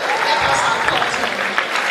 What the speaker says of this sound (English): Let us applaud him.